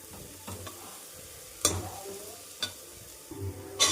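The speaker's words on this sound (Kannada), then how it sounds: "ಇಷ್ಟನ್ನು ಹಾಕ್ಕೊಂಡು ಚೆನ್ನಾಗಿ ಫ್ರೈ ಮಾಡ್ಕೊಬೇಕು" Chili powder masala frying in a pan: a soft sizzle under repeated spatula scrapes and sharp clacks against the pan, several strong knocks spaced out over a few seconds, close and with no talking.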